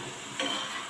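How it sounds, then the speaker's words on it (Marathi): French fries made from potato finger chips fry in hot oil, giving a brief close sizzle with a slight stirring scrape midway and no talking. "आपले फ्रेंच फ्राईज फिंगर चिप्स चांगले फ्राय झालेले आहेत."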